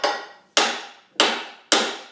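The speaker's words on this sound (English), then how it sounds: "I'm gonna get a brass hammer and give it some love taps." A brass hammer strikes a metal shaft four times at a steady half-second pace, each tap loud and close with a sharp attack and a ringing decay.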